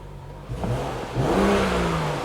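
A BMW 640i engine idles steadily nearby, its low rumble rising in a brief rev partway through, with no one speaking.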